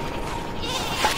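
A short, bleating sheep sound from the Worms video game on Xbox One comes up near the end of a steady wash of game background noise.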